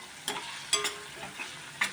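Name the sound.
stirring drumsticks with spices in hot oil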